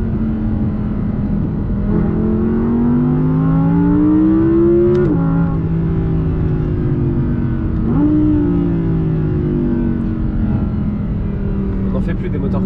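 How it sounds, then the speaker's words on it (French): An Audi R8 V10 engine with an APR kit revs up and down in rising, falling sweeps, a loud droning roar heard from inside or close by. "moi c'est vraiment le son quoi. Ah le V10 il est ouf hein."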